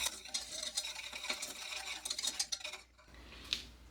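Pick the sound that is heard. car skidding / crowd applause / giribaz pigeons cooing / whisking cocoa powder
whisking cocoa powder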